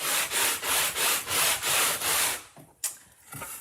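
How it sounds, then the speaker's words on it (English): Rhythmic back-and-forth rasping of a block sanding wood, about seven even strokes, close and loud, then a few lighter scrapes. "I'm going to kind of sand it more in the middle."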